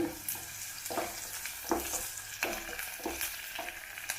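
Onion, curry leaves and a chopped dried red chili frying in oil for a hotel-style beans fry, a close sizzle with repeated stirring scrapes of a spatula.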